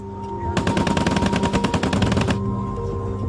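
Rapid burst of aircraft machine-gun fire from a WWII fighter plane, loud and close, about two seconds of fast evenly spaced shots over a steady engine drone that continues after the burst stops.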